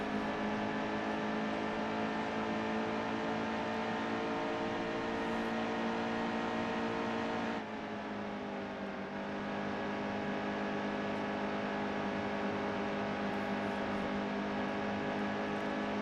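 Race car engine in NASCAR Heat 2, a steady sustained drone with strong harmonic whine, dipping briefly midway as the throttle eases off, then holding again; loud and continuous with no voices.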